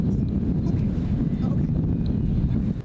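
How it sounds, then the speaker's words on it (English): Strong wind buffets the microphone during a heavy, wet snowstorm in Chicopee, western Massachusetts. It makes a loud, continuous low roar for about three seconds before easing slightly at the end. "Definitely windy"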